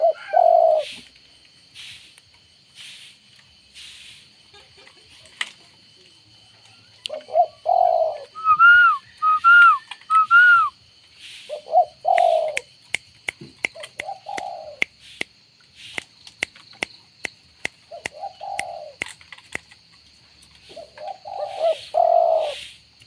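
Soft, low dove coos repeat in short phrases with gaps between them, while brief higher chirps and scattered clicks sound nearby.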